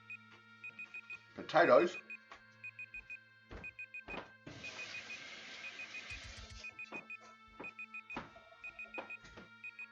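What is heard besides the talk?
alarm sounding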